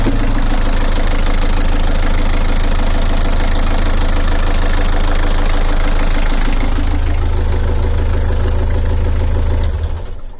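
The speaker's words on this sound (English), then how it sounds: "I'm going to start the engine and then let it run to get hot" A Beta 38 diesel engine on a narrowboat runs steadily at idle, a loud, close, even knocking rumble with a constant beat that briefly shifts pitch and fades at the end.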